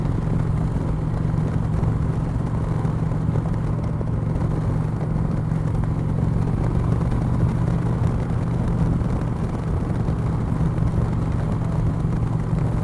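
An Indian Chieftain motorcycle cruising down the road, its engine holding a continuous low drone mixed with steady wind rush, even in level for the whole stretch with no talking.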